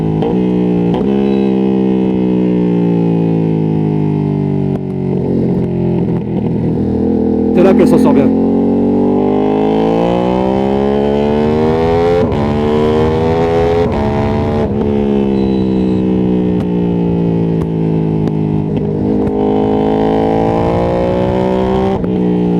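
A Ducati Streetfighter V2S motorcycle engine revs up and down during a ride, its close, loud, droning tone rising and falling repeatedly, with someone talking over it.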